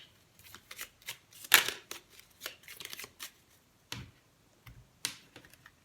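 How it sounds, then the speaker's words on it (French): Oracle cards from a light-themed deck are handled and laid down one after another on a table, giving close, crisp papery slaps and brief shuffling swishes in an irregular rhythm, with no voices. "je vais quand même recouvrir ces cartes avec l'oracle lumière"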